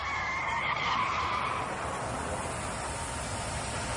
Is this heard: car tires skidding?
yes